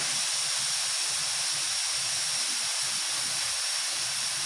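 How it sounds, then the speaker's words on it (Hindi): Steady, loud hissing rush of steam venting from a pressure cooker with goat meat inside on a gas stove, continuous for several seconds with no talk. "ये मेरा गैस जो है निकल चुका है"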